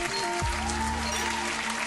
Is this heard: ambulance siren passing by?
no